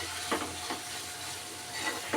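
Chicken keema with garam masala being stirred in a sizzling pan, a steady frying hiss with a few soft spoon strokes at intervals, close and moderately quiet, with no voices.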